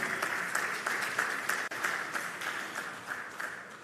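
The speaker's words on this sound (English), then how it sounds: "Let's clap for him once more." An audience at the Africa Retail Congress 2023 applauds with steady, even clapping that swells slightly and carries on throughout, moderately loud with a brief dip midway.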